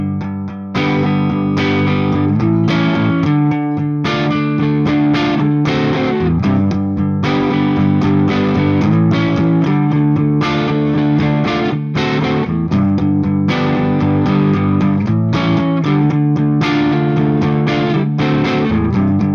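A loud, distorted electric guitar strums a sequence of chords in a steady rhythm, each chord ringing before the next change.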